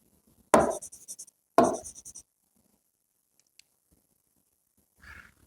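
Pen or marker scratching quickly across a board or paper while a physics exam solution is written out, two short bursts of close scribbling followed by quiet and a faint rustle near the end.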